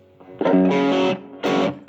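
Two distorted electric guitar power chord strums across three strings, the first ringing for most of a second and the second shorter, with a light picked note before them.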